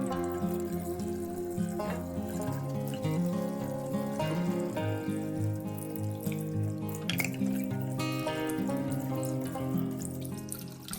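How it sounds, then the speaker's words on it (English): Tap water runs steadily into a sink while a makeup brush is rinsed under it, a continuous splashing flow with faint drips, close and alone with no voices. "Once I rinse, the water starts coming out clear."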